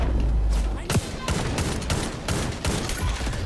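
Heavy gunfire in the XDefiant shooter game, several loud bursts and sharp shots in quick succession with booming impacts, close and dense, with faint voices mixed in.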